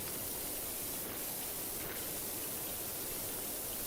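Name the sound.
pressure washer spraying to clean rust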